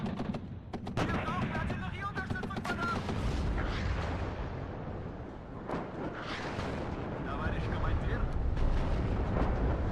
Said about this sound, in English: artillery is going to be firing at the M3A1 Bradley